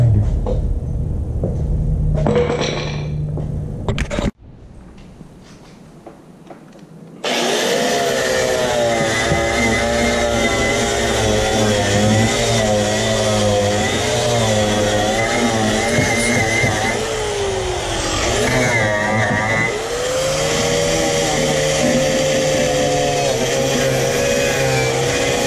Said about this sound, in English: Let me get that grinder.